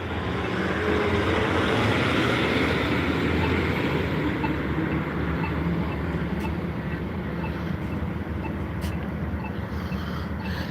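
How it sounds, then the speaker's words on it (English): A light rail train on the green line heading to the airport passes by, producing a loud, steady broadband rumble that holds constant for the full stretch with no pauses. "That's the train there."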